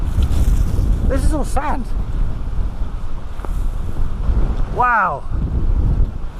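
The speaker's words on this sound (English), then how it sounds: "I don't think you can hear much because of the wind" Strong wind buffets the microphone on the sandy end of an island at a wild camping spot, a loud continuous low rumble throughout, with a person speaking briefly over it.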